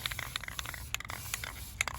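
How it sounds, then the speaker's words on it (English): Short bursts of black spray paint hissing in quick, uneven pulses while weathering Lionel Fastrack model train track, close to the microphone, with faint scraping in between. "And I'm almost out of black spray paint."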